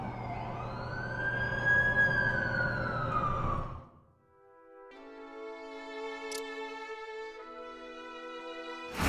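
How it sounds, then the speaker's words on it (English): An ambulance siren wails loudly in a rising sweep from the game The Amazing Spider-Man 2, then cuts to a steadier, multi-toned warbling siren with no talk. "That's the ambulance I called."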